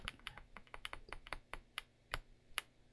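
Outemu Cream Pink linear mechanical keyboard switches bottom out in a quick irregular run of muted, soft clacks from keycaps hitting the plate, close and quiet, each tap crisp and short.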